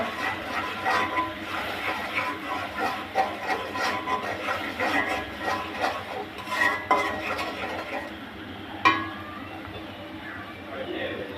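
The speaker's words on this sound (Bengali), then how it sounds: "আদা চামচ মরিচের গুঁড়া ভালোভাবে নেড়ে নেব" A spoon stirs chili powder and ginger into a pointed gourd curry in a pot, giving steady scraping and rubbing strokes with light clinks against the pan. One sharper knock stands out near the end.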